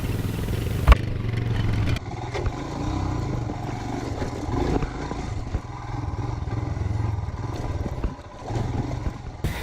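A dirt bike riding down a rough, rocky slope: a steady low engine drone close by, with clatter and knocks from the wheels over rocks and occasional louder jolts, with no talking.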